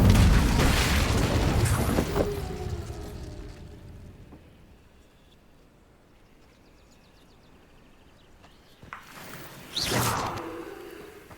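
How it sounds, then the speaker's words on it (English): Incendio fire spell in the video game Hogwarts Legacy: a loud fiery whoosh and burst at the start that fades out, then a second sharp blast near the end. "Incendio!"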